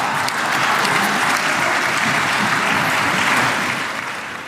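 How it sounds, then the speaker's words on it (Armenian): Sustained, loud applause fills Israel's Knesset chamber for the US president, a dense wash of many hands clapping steadily with no break, slightly easing toward the end. "Իսրայելի խորհրդարանում ավելի քան 2 րոպե ծափահարել են ԱՄՆ նախագահին"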